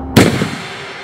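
A single sharp gunshot blast cracks out suddenly, then fades into a short echoing decay.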